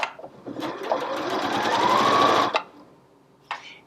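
A Janome HD5050 sewing machine runs a straight stitch in one continuous, close, loud burst of rapid needle hum lasting over two seconds, then stops, followed by a brief click.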